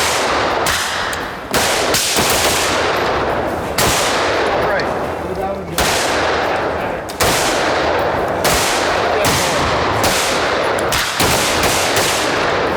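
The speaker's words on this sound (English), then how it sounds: "Shoot that bullet." AR-15 rifles firing at an outdoor shooting range during red dot zeroing, with rapid overlapping sharp gunshots in bursts from several shooters, loud and continuous with brief pauses, and voices talking between shots.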